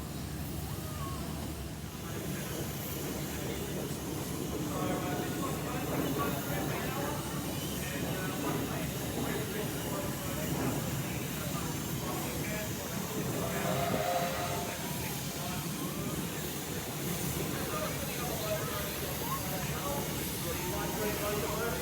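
Steam locomotive R761 being turned on a turntable at a crowded railway workshops open day, with a steady hiss and low rumbling machinery running throughout beneath background crowd chatter.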